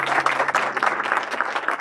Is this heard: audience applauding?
yes